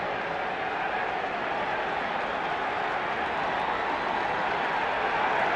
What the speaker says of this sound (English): It is a raucous crowd already here at the Vet.